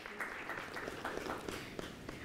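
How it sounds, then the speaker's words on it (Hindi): Studio audience clapping at a televised vigilance quiz show, a moderate, fairly quiet patter of hands with some individual claps standing out, continuing evenly without speech. "जोरदार तालियां हो जाएं"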